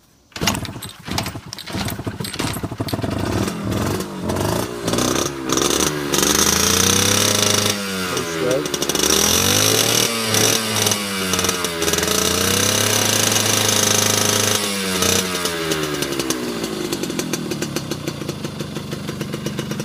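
An early 1980s three-wheeler is kick-started and its small engine catches, rising into a loud, choppy, rapid idle that keeps running close by with uneven revving.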